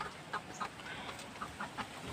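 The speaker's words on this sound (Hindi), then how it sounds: "ये डीपी क्रॉस मुर्गी है" A flock of about thirty DP Cross breed hens clucks softly in a steady, broken rhythm, short clucks repeating every few tenths of a second at a low, distant level over a faint background hum.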